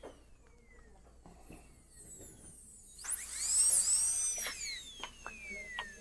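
A dental burr cutting a lingual groove into a gold crown, a thin high whine that starts abruptly partway through and keeps going with shifting pitch, quiet and close, after a stretch of soft handling noises.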